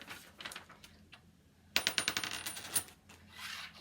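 A coin flipped and landing on a surface during a beef cattle genetics exercise: one bright metallic clatter followed by quick ringing bounces that settle, close and fairly loud after quieter faint rustling.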